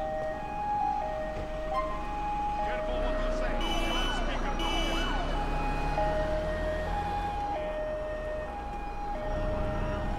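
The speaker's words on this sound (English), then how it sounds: "There he is, there's the ambulance." Ambulance siren from the GTA IV LCPDFR police mod, set as a British Met Police patrol, wails continuously and fairly loud through the scene over steady engine and traffic noise.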